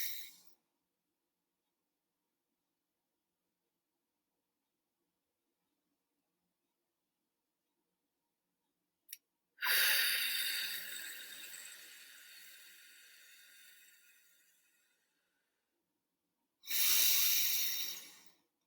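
Slow, deep breaths drawn in a box breathing exercise, two long airy inhales or exhales separated by quiet pauses, close and soft with no talk.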